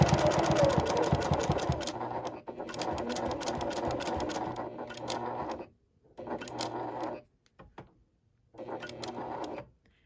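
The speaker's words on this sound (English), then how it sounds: "you're going to sew all the way down" A sewing machine runs in rapid stitching bursts down the edge of a men's shirt cuff being made into a mini wallet, stopping briefly between runs, close and clear.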